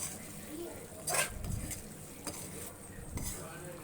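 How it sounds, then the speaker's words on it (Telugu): Masala-coated chicken pieces for pepper chicken fry are stirred in a pan, a quiet scraping of the spoon with soft clinks against the metal and a faint sizzle underneath, heard close but low. "సో ఈ మసాలా మొత్తం బాగా ముక్కలకి పట్టేలా మిక్స్ చేసుకోవాలి."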